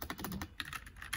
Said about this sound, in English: so we can type here